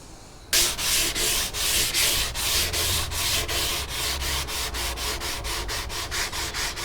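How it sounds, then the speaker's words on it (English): Steady back-and-forth sanding of wood with fine 240-grit sandpaper, rhythmic rasping strokes, close and continuous, with no talking. "I'm just sanding it over with 240 grit paper, which is very fine"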